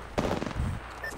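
Rapid, dense gunfire bursts in an Apex Legends firefight, loud and close, rattling continuously through a brief moment.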